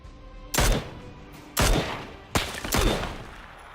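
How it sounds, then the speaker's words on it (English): A Mini-14 rifle fires in a video game: three loud, sharp gunshots about a second apart, each followed by a short echoing tail, with no talking. "I'm going to take another couple shots at him."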